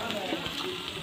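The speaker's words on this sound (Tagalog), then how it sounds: "Lagay na natin yung bawang. Sinabay na rin yung sibuyas." Garlic and onion frying in hot cooking oil, a brief, even crackling sizzle at moderate level with faint pops throughout.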